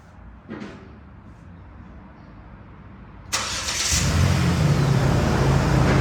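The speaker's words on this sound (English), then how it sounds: "Let's start the car up." A 2008 Jeep Liberty with a 3.7 L engine cranks and fires after a quiet few seconds, then settles into a loud, steady run close to the microphone.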